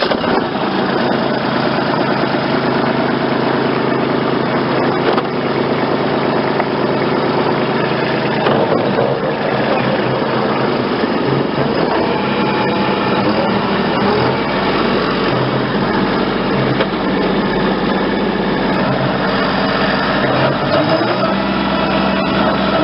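A tractor engine runs steadily while mowing up and down the rows between Christmas trees on a tree farm, a continuous loud drone with shifting load and no talk.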